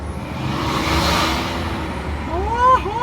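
A BMW car in sports mode pulling away in first gear: a steady low engine rumble and road noise, then a rising revving whine near the end as it accelerates.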